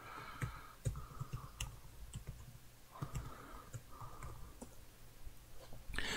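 Typing on a computer keyboard, with irregular soft key clicks in quick bursts, faint and close against a low steady hum.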